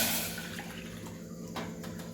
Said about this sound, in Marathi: ही एक वाटी मी इथं पाणी घेत आहे घेते आहे